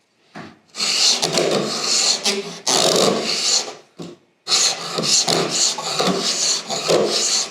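A hand scraper with a tensioning knob is pushed across a wooden surface on a workbench, giving close, raspy scraping strokes with a slight chatter, several long passes separated by brief pauses.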